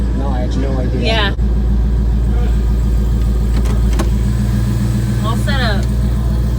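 Heard from inside while cruising, the Ringbrothers-built Javelin's engine gives a steady low rumble with a constant drone. People talk over it now and then.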